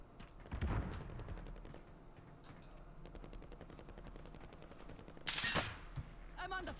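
Video game gunfire, a dense run of rapid automatic shots crackling steadily throughout, with a louder burst of fire near the end, mixed under game effects and background music.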